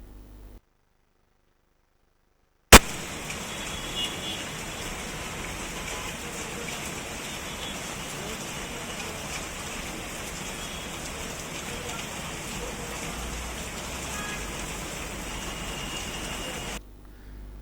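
Rain falls steadily on city streets in Hyderabad, a dense, even hiss that runs unbroken after a short silent gap at the start.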